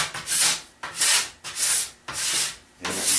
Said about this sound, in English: And I'll scrape and brush the ski.